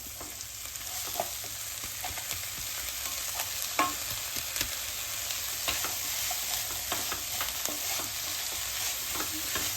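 Elephant foot yam leaves fry and get stirred in a pan with onions and chilli, a steady close sizzle broken by repeated sharp scrapes and clicks of the spoon against the pan.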